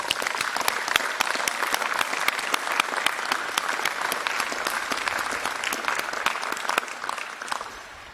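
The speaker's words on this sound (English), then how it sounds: "Let's give a big round of applause for all the 2024 graduates." A large audience applauds graduates at a 2024 graduate school commencement ceremony, dense sustained clapping that fades toward the end.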